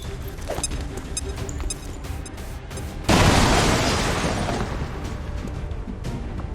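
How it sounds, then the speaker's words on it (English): A grenade explodes in XCOM 2, a sudden loud boom that fades slowly into a rumbling tail, with faint game sounds before it. "Grenade out!"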